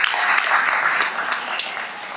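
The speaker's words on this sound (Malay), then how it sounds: "Kita berikan tepukan gemuruh kepada semua petugas kita." An audience gives sustained, dense applause for hajj officers at a send-off ceremony, loud and continuous throughout.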